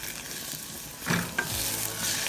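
Peppers and garlic hit a hot frying pan and burst into a close, crackling sizzle, with stirring clatter over a steady frying hiss.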